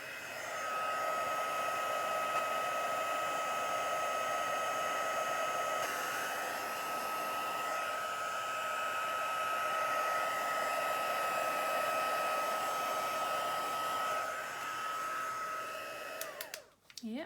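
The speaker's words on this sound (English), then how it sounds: "I'm gonna give this a little encouragement with my heat tool" A craft heat tool blows hot air over inked cardstock in one continuous, fairly steady whoosh. It stops with a short click and rattle at the very end.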